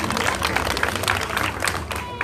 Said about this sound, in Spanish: Otros aplausos para este pequeñito.